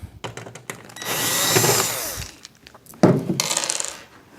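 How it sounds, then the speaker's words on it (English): Power drill backing screws out of a front plate during a coil conversion, two bursts of whirring, the first longer and steadier, the second starting abruptly, close and fairly loud with light clicks of metal between. "We're just going to start by taking all the screws out of the front plate."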